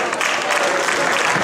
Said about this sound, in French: À la 5e place, merci d'applaudir le Clermont Foot 63